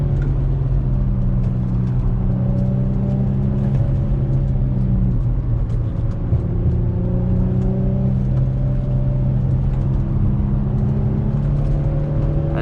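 An Infiniti G35 driven hard through corners, its engine a loud steady drone with shifting tonal whine throughout, tires likely sliding and scrubbing beneath the continuous road rumble.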